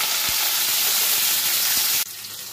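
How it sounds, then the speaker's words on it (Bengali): Pointed gourd (potol) pieces fry in hot oil with only salt, giving a loud, steady sizzle with faint crackles that cuts off sharply near the end. "দেখুন পটলগুলো আমার ভাজা হয়ে গেছে।"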